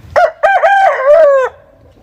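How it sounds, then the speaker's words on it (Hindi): An Aseel rooster crows loud and close, one full cock-a-doodle-doo with a sharp opening note and a long drawn-out ending, then quiet. "उसके बाद वाजिद भाई, हमारे पास ये मुर्गा है, हम इसको रंगीला के नाम से पुकारते हैं"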